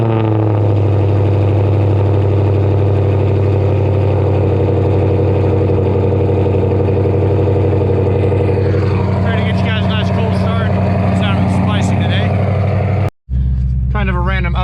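A Ford Shelby GT500 engine drones steadily while cruising, heard from inside the car, with a voice speaking over the engine noise partway through and a brief cutout near the end.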